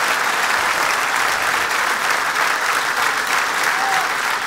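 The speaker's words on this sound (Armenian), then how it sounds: "ջերմ ծափահարություններ" Warm applause from an audience fills a hall, dense and loud, with steady clapping throughout and a faint voice underneath.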